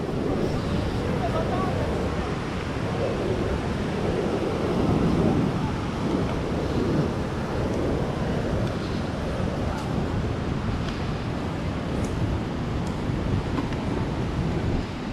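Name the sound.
beach with ocean waves and wind, Itacaré, Bahia, Brazil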